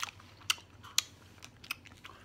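Gum being chewed close up, with a few sharp moist clicks and smacks scattered over a quiet background and no talking.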